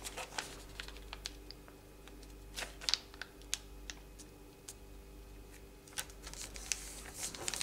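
Origami paper being folded and creased by hand while making a box and lid, heard as soft, close crackles and sharp little taps scattered across the whole stretch, quiet and alone.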